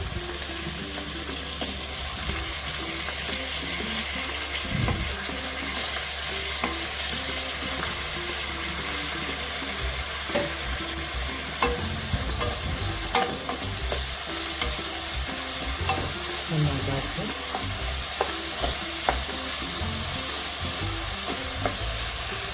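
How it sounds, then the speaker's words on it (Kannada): Onions fry in a pan for paneer masala, a steady close sizzle with scattered stirring clatters and occasional splashy water-like sounds, no talk. "ನಂತರ ಇದಕ್ಕೆ ಈರುಳ್ಳಿನ ಹಾಕ್ತಾ ಇದ್ದೇನೆ"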